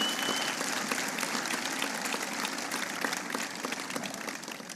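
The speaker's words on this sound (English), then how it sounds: "And so please give her a big another round of applause." Steady, dense applause from an audience at an event in Iowa with President Obama and Michelle Obama, a continuous wash of many hands clapping that holds at an even level throughout.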